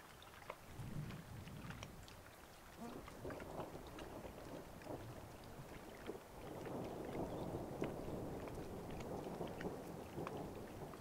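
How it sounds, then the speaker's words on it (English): Evening thunder rumbling over the Wabakimi wilderness on a solo canoe trip, heard as a faint, continuous low roll with soft patter over it and no talk. "Just thundering left and right."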